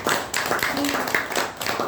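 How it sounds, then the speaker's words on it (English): A meeting audience gives the speaker and evaluator a round of applause, a dense, steady patter of many hands clapping close by with no let-up. "can we have a big round of applause for the"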